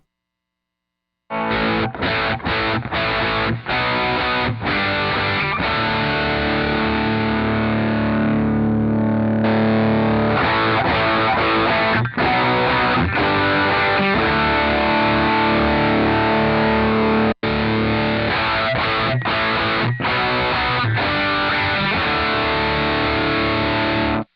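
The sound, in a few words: electric guitar through stacked overdrive pedals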